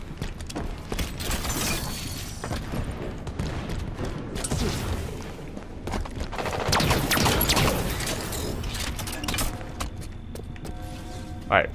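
Light rifle fire in a Halo multiplayer match rings out in rapid repeated bursts and mechanical clatter while a player talks over the action.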